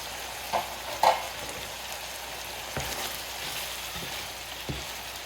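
Beef for a Thai-style dish fries in a pan with a steady soft sizzle, a few sharper clicks and pops of stirring scattered through; no voices.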